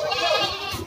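Goats bleating at a livestock market, with a single wavering bleat that is close and fairly loud and lasts under a second, and no talk over it.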